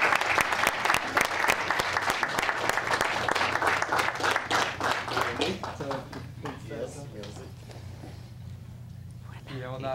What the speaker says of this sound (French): Je vous demande d'applaudir chaleureusement notre personnalité ambassadeur de l'année, Denis La Liberté.